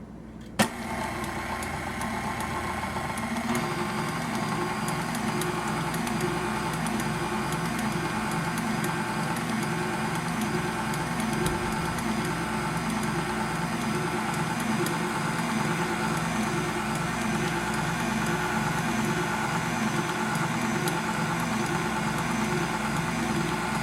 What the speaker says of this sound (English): now you're going to turn your mixer back on, and you are going to mix this just a little bit